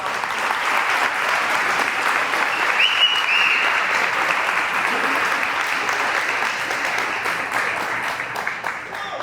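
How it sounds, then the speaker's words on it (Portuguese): A church congregation claps together in steady, sustained applause, a dense roar of many hands filling the space for the whole stretch, with a brief raised voice or whistle cutting through partway. "Dá um glória a Deus aí, dá um aplauso a Ele."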